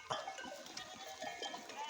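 Sheep bleating at a mossy water trough in the Turkish hills, several overlapping calls close by with people talking at the same time.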